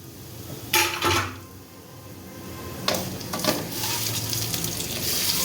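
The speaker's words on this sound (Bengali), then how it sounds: "এটা অনবরত নেড়ে চেড়ে ভাজতে হবে, পুড়ে না যায়।" Lachha semai vermicelli frying in ghee over a low flame, a soft steady crackle broken by two bursts of scraping and clattering as it is stirred in the pan, with no talk.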